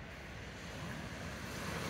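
Sea waves on the sandy Cleopatra beach in Alanya, Turkey, a steady broad wash of surf with wind, even and continuous, with no voices.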